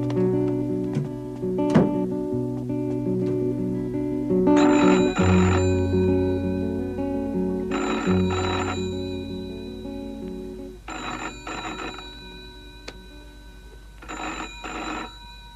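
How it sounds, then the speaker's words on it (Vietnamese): A telephone rings in an old 1990 Hong Kong TV drama, loud and close. Repeated electronic bell bursts come in evenly spaced rings over a background music bed. "Sáng sớm mà ai gọi điện thoại gì cả."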